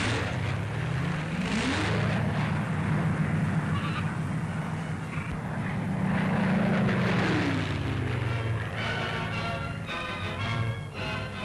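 WWII Soviet Red Air Force propeller warplanes fly past, their engine drone swelling and fading in loud overlapping passes, with a rising whine near the end.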